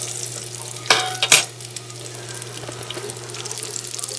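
Small fried apple pies sizzle steadily in a pan of hot oil on a stovetop, a constant close crackle with a couple of sharper louder spatters near the start.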